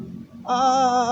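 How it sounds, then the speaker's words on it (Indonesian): A telolet musical bus horn sounds close and loud after a brief quiet moment, holding one bright, steady harmonic tone to the end. "Ada suara telolet nih."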